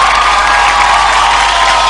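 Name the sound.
applause welcoming comedian Dipoo Srivastava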